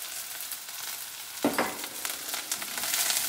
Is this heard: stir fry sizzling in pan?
yes